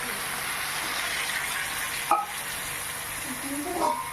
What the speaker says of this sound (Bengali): পরিমাণ মতো হলুদের গুঁড়ো একটু নেড়ে চেড়ে নিচ্ছি